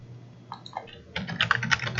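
Python code being typed on a computer keyboard: a few scattered keystrokes at first, then a quick run of close, crisp clicks and taps continuing to the end, with no talk.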